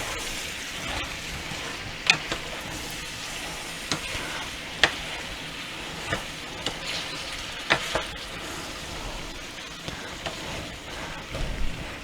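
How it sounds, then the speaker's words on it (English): Butternut squash soup being stirred in a pot, a continuous soft sizzling bubble with scattered light clinks and scrapes of the spoon, close and steady with no talking. "I'm going to give this a good stir."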